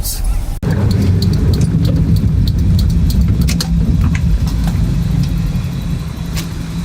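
Volkswagen kit car built as an off-road 4x4 with a muffler, its engine running with a steady low rumble throughout while people talk over it.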